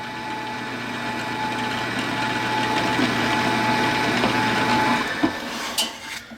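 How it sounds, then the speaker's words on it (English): A drill's steady motor whine drones for about five seconds as a 1/8 inch bit bores a through hole in wood, then cuts off, leaving a few light clicks and knocks of a tool being set down. "use a 1/8 inch bit and drill a through hole"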